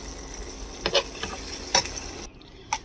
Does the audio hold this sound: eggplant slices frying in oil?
yes